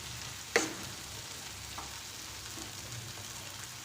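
Brinjal masala with garam masala is stirred in a frying pan. A soft, steady sizzle sits low in the background, with a single sharp clink of the spoon against the pan early on and faint scraping after.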